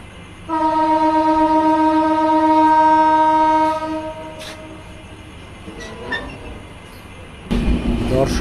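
The Shimanto Express, a broad gauge train on the Rajshahi to Khulna run, sounds a loud sustained horn for about four seconds at Darshana halt station, then rolls on with rumbling noise and clanks.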